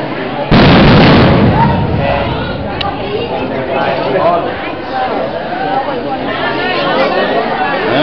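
Fireworks at a temple funeral ceremony go off with one sharp loud bang near the start, followed by a rumbling crackle under steady crowd chatter and people talking.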